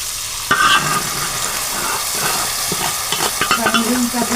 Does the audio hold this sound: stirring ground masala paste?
yes